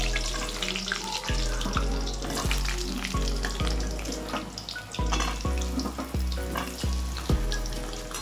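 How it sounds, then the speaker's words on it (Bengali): Cut potatoes sizzle in hot oil in a wok, a loud, close, continuous crackling fry with repeated low thumps from stirring or pieces shifting. "তেল গরম হয়ে গেছে, এবার আমি আলুগুলো, মাংসতে দেওয়ার যে আলুগুলো কেটেছিলাম সেটা ছেড়ে দেবো।"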